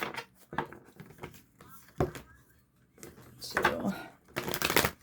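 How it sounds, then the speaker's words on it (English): A deck of tarot cards is cut and riffled, with quick papery bursts of shuffling and soft card taps in short repeated bouts, close and fairly quiet. "I'm going to cut and do a single shuffle 3 times."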